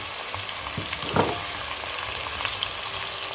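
Chopped ginger, cumin and deseeded chilies frying in oil in a karahi for Lahori chicken karahi, a steady close sizzle with a brief louder spatter as they hit the pan, no talking.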